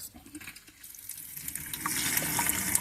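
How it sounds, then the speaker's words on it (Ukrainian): Water running from a tap just opened on a newly installed boiler system in a kitchen, air still in the line; a steady gushing flow that swells louder and fuller toward the end. "Так, зараз відкриваємо кран там і дивимося."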